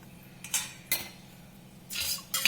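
A spoon clinks against a bowl while curd is mixed for dahi vada, then a lid clatters on top, several sharp separate metallic knocks, close and fairly quiet, no voices.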